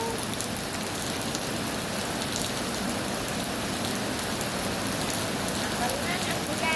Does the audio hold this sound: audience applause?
no